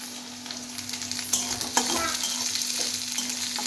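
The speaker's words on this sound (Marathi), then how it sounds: "कांदा आणि मिरच्या असं आपण तेलामध्ये आता फिरवून घेऊया।" Chopped onion and green chilies sizzle steadily in hot oil while being stirred, with scraping and clinking of the utensil against the pan over a constant fry.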